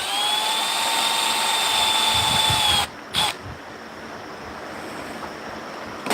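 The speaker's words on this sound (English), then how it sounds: "So we drilled a hole down in here." A drill bores a hole, its high, steady whine running close and loud before stopping, followed by a few brief knocks and a lower lingering hum.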